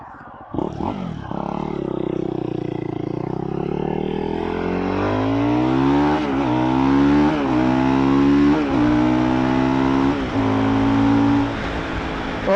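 A Fantic Caballero Scrambler 500 single-cylinder motorcycle accelerates on the road, its engine note climbing through several gear changes with brief dips between pulls, loud and close with wind rush underneath.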